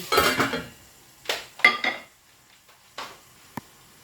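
A lid clatters down onto a metal pot of pork being cooked for pakbet, with a few sharp clanks and clinks spaced over several seconds, close by and with no talking.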